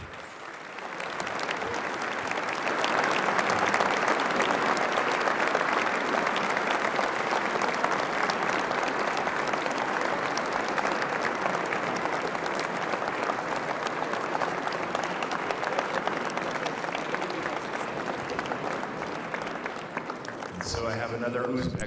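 A large audience in the grand hall of the Uzbekistan Economic Forum 2022 claps in a sustained, even round of applause that swells quickly and continues steadily for about twenty seconds before tapering slightly.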